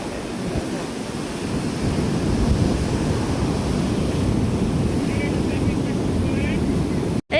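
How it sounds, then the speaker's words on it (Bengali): Sea waves wash and rumble continuously below a jetty at Cox's Bazar, heard alongside buffeting wind noise on the microphone, loud and close throughout. "এই যে সমুদ্রের ঢেউ"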